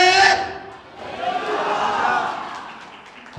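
Church congregation at an Easter meeting shouting praise slogans, a loud burst of voices followed by a swelling collective shout that fades, with cries rising over the crowd.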